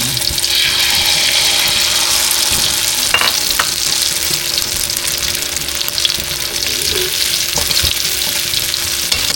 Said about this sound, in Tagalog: Pagka mainit na po ang matika, pwede na po natin ilagay itong ating talong.